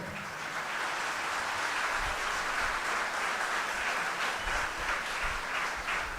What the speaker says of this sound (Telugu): ఈ చప్పట్లు సరిపో